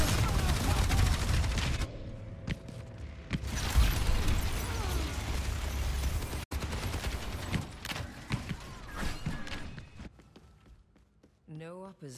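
Rapid bursts of gunfire from the video game Overwatch 2, loud and dense with mechanical weapon clatter, broken by brief gaps as a player talks over the action.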